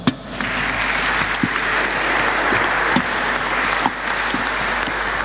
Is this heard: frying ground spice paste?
no